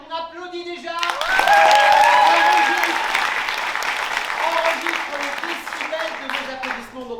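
Theatre audience at an improv comedy show bursts into loud, sustained applause and cheering that swells within a second and stays strong, dense clapping filling the room for several seconds before easing slightly.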